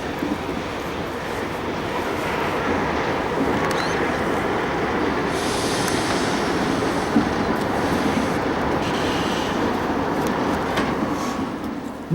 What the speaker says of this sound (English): triple BHP units arrive with a load of coal bound for the blast furnaces